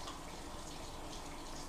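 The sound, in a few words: running water rinsing Traxxas air filter parts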